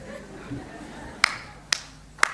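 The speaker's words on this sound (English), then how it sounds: "I'm going to clap you in" At a Welcome to Country ceremony, three sharp, spaced claps ring out over a low murmur of voices, starting slow and evenly apart.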